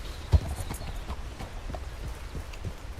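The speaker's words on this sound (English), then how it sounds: "my horse is about to go off the cliff" Horse hooves clip-clop in a video game in an even walking rhythm, fairly quiet and close, with one sharper knock near the start.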